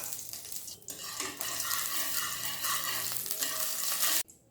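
Ghee sizzling in a pan for jeera rice, a steady close frying hiss with stirring scrapes that runs for several seconds and cuts off abruptly near the end.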